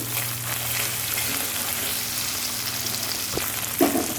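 Coriander and curry leaves frying in hot oil for masala chicken pakodi, giving a loud, steady, close sizzle that runs throughout with a small clatter near the end.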